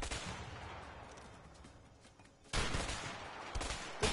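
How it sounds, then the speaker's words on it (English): Enemy gunfire in the co-op prison-escape game A Way Out, with a burst of shots and a sudden loud, dense volley of rapid bangs and crackling reports after a quieter stretch. "He's shooting both of us at the same time."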